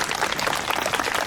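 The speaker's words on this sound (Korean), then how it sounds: "우리 주례사님께 다시 한번 감사의 박수 부탁드리겠습니다." Wedding guests applaud the officiant after the wedding address, steady dense clapping throughout at a moderate level with no voices above it.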